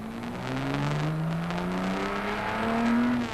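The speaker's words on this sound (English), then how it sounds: "Accelerating hard up to Dunlop Bridge." A Jaguar race car pulls away from the start line at Le Mans and accelerates hard, its engine note rising steadily through the gears in a loud, close, continuous drone.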